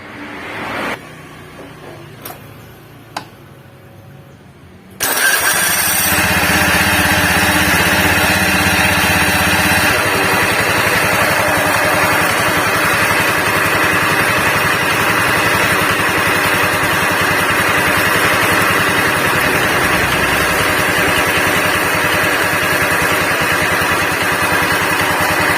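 A Honda Beat FI scooter engine starts up after a few faint clicks, then settles into a steady, loud, buzzy idle that runs on continuously with a rough edge.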